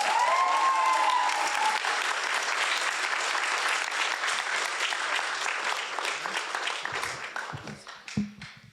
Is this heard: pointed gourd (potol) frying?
no